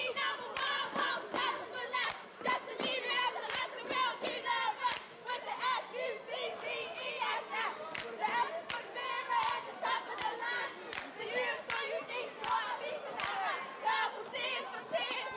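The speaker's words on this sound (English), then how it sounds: "Today's Best Buy Best Cheer comes courtesy of the Lady Dolphins of Lake Clifton" The Lady Dolphins cheerleading squad of Lake Clifton chant a cheer in unison, their voices shouted in rhythm and punctuated by sharp, regular claps or stomps throughout.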